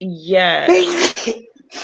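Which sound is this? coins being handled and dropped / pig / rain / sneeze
sneeze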